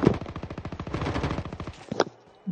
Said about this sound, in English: Shotgun, shotguns.